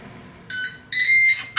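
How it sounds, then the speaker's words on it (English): Ninja Speedi air fryer signalling the end of its cook time with a short run of bright electronic beeps, two sustained tones followed by a brief third chirp, close and clear over a quiet kitchen background. "we've beeped, so it's done its initial cook time now"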